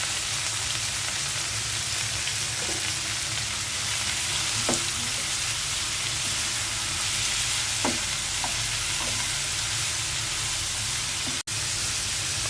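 Bitter gourd and potato with onion stir-frying in a pan, a dense, even sizzle like rain hiss filling the scene, with a few faint spatula scrapes, close and continuous, no speech.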